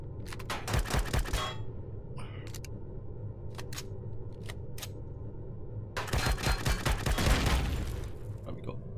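Rapid bursts of gunfire in Empyrion Galactic Survival as players shoot and destroy a target, loud clustered volleys early and again near the end with quieter sharp shots between, over a low steady game hum.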